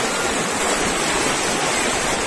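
Floodwater from the overflowing Sreekantapur lake rushes fast across a closed road near Lepakshi, a loud, unbroken roar of churning water with no pauses and no voices.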